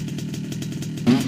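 A moped engine runs with a steady, close, buzzing putter, then swells into a louder rev near the end. No one speaks over it.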